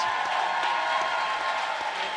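An audience claps steadily for the Vice President of the United States, a dense, even patter of applause with light crowd noise for about two seconds.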